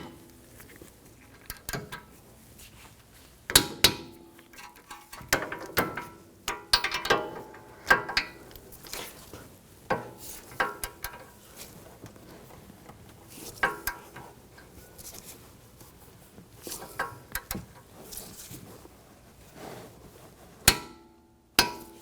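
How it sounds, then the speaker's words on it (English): Torque wrench tightening rear brake caliper bolts on a 2021-2023 Jeep Grand Cherokee L, heard as sharp irregular metallic clicks and clanks close by, with scattered mechanical ratcheting throughout and no talking. "I torque these bolts to 89 foot-pounds."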